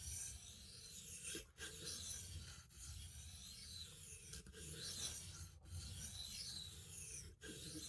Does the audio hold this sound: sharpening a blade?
yes